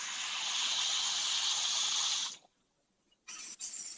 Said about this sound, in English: Sizzling away.